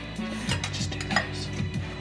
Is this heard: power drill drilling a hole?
no